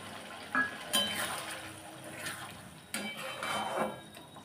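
Water added to a duck egg curry in a pan, with a few close clinks and knocks of a utensil against metal and a brief splash and pour, with no voices.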